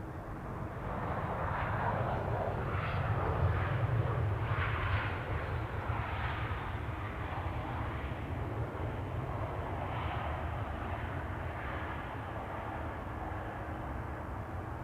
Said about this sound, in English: EasyJet A319 arriving from Geneva is about to appear over here.